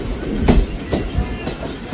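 A Kalka-Ambala Cantt passenger train arrives at Chandi Mandir station in Haryana, giving a short run of rumbling wheel thumps and clacks, moderately loud, with no voices.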